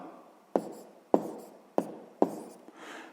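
A pen or pencil writes an answer on paper, four sharp taps of strokes spaced about half a second apart with scratchy trailing, close and quiet with no talk.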